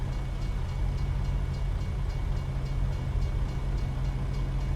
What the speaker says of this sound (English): do you hear a train?